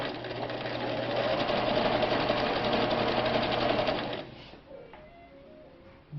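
Vintage Viking 6690 sewing machine stitching a wide zigzag, a close steady mechanical whir and clatter running for about four seconds before stopping.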